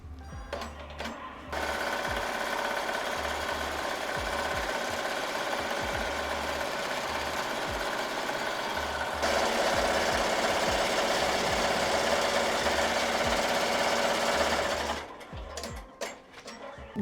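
An embroidery machine stitches a placement line at about 1000 stitches per minute, a steady, close, fast mechanical whir that runs unbroken for about thirteen seconds and shifts slightly in pitch midway, with quiet handling noises before and after.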